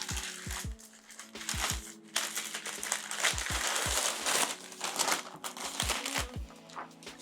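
Packaging of a GMMK 3 Pro keyboard being opened, with crinkling plastic and cardboard rustles broken by several sharp low thumps and taps, close and fairly loud, with no talking.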